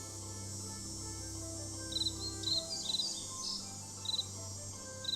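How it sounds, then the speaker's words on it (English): Bird calls in the Nancy Drew game Ghost Dogs of Moon Lake: several short, bright chirp bursts repeat irregularly over a steady insect-like drone and low ambient hum, with no talking. "the noises these birds make are crazy"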